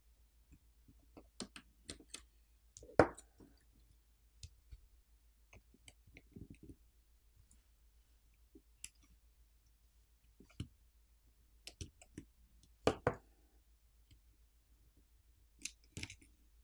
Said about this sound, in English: There are two more Phillips screws which need to be removed.